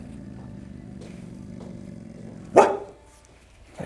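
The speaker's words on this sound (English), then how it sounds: "When he does the little bark, leave it, leave it," A dog on a leash, out for a walk, lets out one sharp, loud bark over a low steady background hum, then goes quiet.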